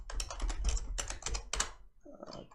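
Rapid typing on a computer keyboard while coding, dense bursts of close, crisp key clicks with brief pauses between runs.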